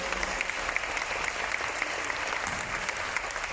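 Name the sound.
round of applause for Lottie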